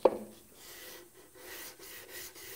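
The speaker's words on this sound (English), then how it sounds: "I'm going to hit those with by hand sanding with the grain" Wood being hand sanded with sandpaper along the grain while building a jewelry box carcass, a soft, steady rubbing rasp in repeated strokes, close and fairly quiet.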